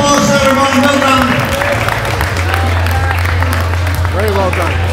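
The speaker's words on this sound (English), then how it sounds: "Big round of applause, everyone." A crowd at a novice strongman stone-lifting event applauds a contestant, loud clapping and cheering under an announcer's amplified voice and a steady low hum.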